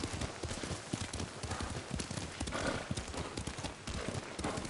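Horse hooves clip-clopping at a brisk riding pace in Ghost of Tsushima, a dense, even stream of close hoofbeats on the ground that continues throughout.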